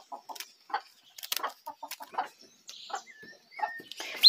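Young turkeys and chicks clucking and peeping, scattered short calls at close range with some thin high chirps, fairly quiet with gaps between.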